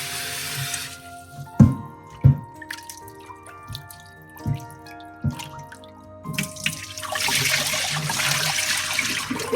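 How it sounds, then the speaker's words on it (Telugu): Running tap water splashing and dripping as raw chicken is rinsed in a sink, with a few sharp knocks and splashes, then a louder steady stream of water toward the end. "మామూలుగా అయితే ఫస్ట్ చికెన్ ఊరికే ఇట్లా వాష్ చేసేసుకుందాం."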